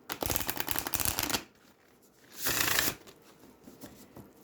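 A small stack of Sufi tarot cards being shuffled by hand, two quick riffling bursts close to the ear separated by a quiet pause.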